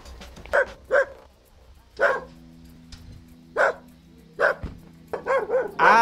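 A dog at a house in a Vietnamese village gives a series of loud, nearby barks in separate bursts about a second apart, ending in a quicker cluster of barks, with a faint low hum underneath and no talk.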